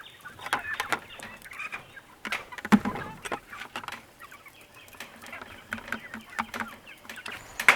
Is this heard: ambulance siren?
no